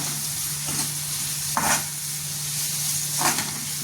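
Coriander fries in a pan for shavige upittu, a steady soft sizzle with a low hum underneath and three brief scraping stirs spaced a second or two apart, close by and with no talking.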